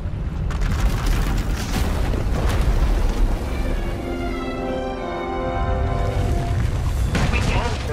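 Deep, continuous rumbling booms and blasts as an asylum erupts and is destroyed in the game Jedi Knight, a dense, sustained roar of explosions that stays loud throughout.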